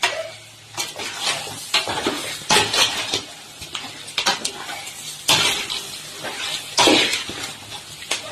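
A chicken roast being stirred in a pan after curry leaves go in: repeated metal scrapes and clanks of a spoon against the pan over a light sizzle, close and fairly loud, with no talking.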